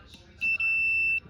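A multimeter's continuity beep sounds as the test leads touch: a single steady, high-pitched electronic tone lasting under a second, with a brief dip near its start, standing alone against a quiet background.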